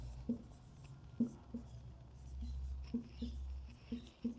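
Pen or pencil writing on paper during a Hindi lecture on rural planning schemes, faint scratchy strokes and taps in short irregular bursts, quiet and close with a low room hum beneath.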